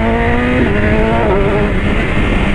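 BMW S1000RR sport motorcycle accelerating hard through two gear changes, a loud close engine whine rising in pitch with a brief dip at a shift, under wind roar.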